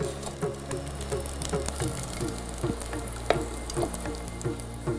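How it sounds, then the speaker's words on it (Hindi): Garlic cloves frying in hot oil over low heat for a chutney, a steady close sizzle with scattered crackles and light stirring clicks throughout, no voices. "और चटनी बनाने के लिए तेल गरम होते ही इसमें मैं डालूंगा लहसुन की कुछ कलियां हैं और इनको हम ब्राउन कर लेंगे"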